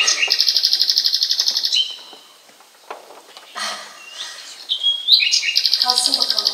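Birdsong used as a sound effect in a stage play: rapid, rhythmic chirping trills sound loudly, fade into a quieter stretch with scattered faint calls, and then the bright trilling returns.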